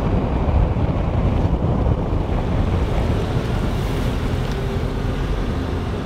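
A Haval H9 2020 SUV drives fast through water on an off-road crossing, a dense continuous rushing wash of splashing water and wind buffeting that stays loud and even throughout, with no voices.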